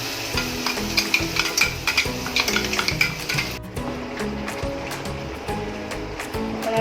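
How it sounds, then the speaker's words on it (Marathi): Ground onion-tomato masala is stirred and sautéed in a pan for a matar paneer curry, with scraping spoon strokes and rhythmic clinks over a continuous sizzle that settles into a steady frying hiss. "चांगला परतून घेऊ जेवढा चांगला परतला जाईल मसाला तेवढी भाजी चांगली लागते"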